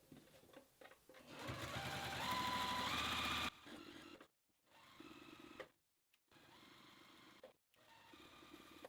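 A sewing machine runs top stitching along the long edges of fabric tote-bag handle strips in bright pink thread: several steady whirring bursts of stitching, the first longest and loudest, separated by short pauses with no one talking.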